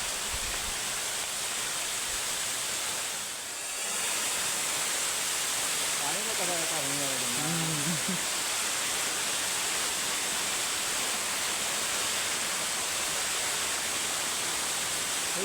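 Rautwadi waterfall at Radhanagari, Kolhapur, in Maharashtra, roars as a constant, loud wash of falling water. A voice speaks briefly beneath the steady rush.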